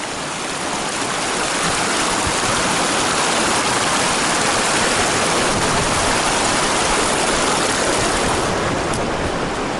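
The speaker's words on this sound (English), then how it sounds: "we got another stream crossing, a beautiful one at that, as we head up to Mather's Pass" A high-altitude mountain stream near Mather Pass on the John Muir Trail, swollen slightly by recent rain, rushes steadily and loudly at close range, its broad hiss of flowing water unbroken throughout.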